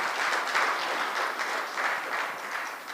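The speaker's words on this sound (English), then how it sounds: "she deserves another round of applause" Audience applause after a closing speech at a Kenyan justice launch event, steady dense clapping that carries through the whole stretch at an even level with no talk over it.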